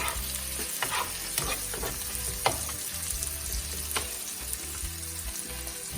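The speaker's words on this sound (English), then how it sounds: "we're gonna lightly saute this, not for long" Onions sautéing lightly in a pan for salt fish and okra, a steady soft sizzle with scattered stirring clicks and scrapes throughout, moderately close and with no talk.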